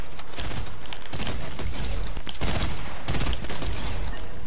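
Rapid scoped rifle gunfire in Fortnite Chapter 1, a steady barrage of loud, close shots with a few brief pauses, dense and continuous throughout.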